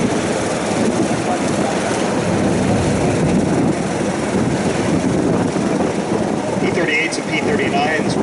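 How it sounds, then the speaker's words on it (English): A Lockheed P-38 Lightning twin-engine fighter flies past at a flight demonstration, a loud continuous engine roar that swells and fades slightly, with someone talking over it. "here comes the other P-38"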